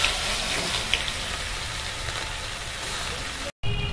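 Chopped onion hits hot oil already seasoned with dried red chilli and black cumin, giving a loud, steady hiss and sizzle that continues unbroken before a brief cut to silence near the end.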